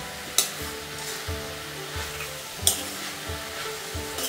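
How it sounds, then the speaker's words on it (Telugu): Asparagus fries in an uncovered pan under a constant sizzle while a spatula scrapes through it at steady, regular intervals. "ఇలా కలుపుకుంటూనే ఉండాలి."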